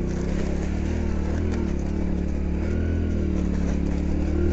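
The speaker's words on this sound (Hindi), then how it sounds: "अभी देखते हैं इधर से उठता है कि नहीं बाइक।" A Hero motorcycle's engine labouring as it climbs a steep hill in a jungle, a strong, steady low drone under load that rises slightly toward the end, with no voices.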